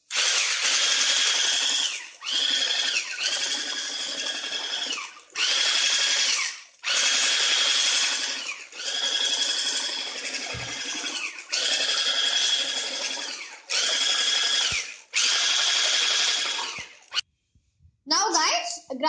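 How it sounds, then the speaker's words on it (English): An electric hand beater whirs loudly through cinnamon roll dough of all-purpose flour in repeated bursts of a couple of seconds each, separated by short pauses, before stopping near the end. "Slowly mix it with the beater, that's all-purpose flour."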